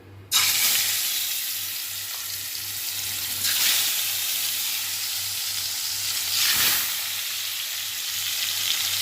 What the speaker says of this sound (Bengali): তেল গরম হয়ে সর্ষের তেল মাখিয়ে রেখেছি এবার মাছগুলো ছেড়ে দেবো